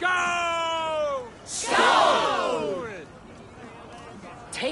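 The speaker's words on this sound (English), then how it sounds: "Join the battle cheer." Viking warriors in Assassin's Creed Valhalla raise a battle cheer. A long horn-like bellow leads into a swelling crowd roar of many voices yelling together, followed by scattered shouts as it fades.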